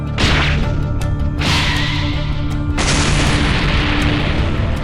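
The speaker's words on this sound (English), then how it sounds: "With another explosion ramping up, he warns Goten and Yamcha to brace themselves" Cartoon energy explosions in a Dragon Ball animation at a shaking lookout, a loud roaring blast that swells, surges again, then settles into a sustained rumbling, crackling roar with whooshing texture throughout, no speech.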